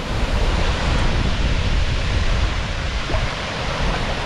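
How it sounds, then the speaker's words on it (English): A strong hurricane wind gust roars steadily outdoors, a loud broadband rush filling the whole stretch with slight surges, close to the microphone and with no talking. "There's a good gust."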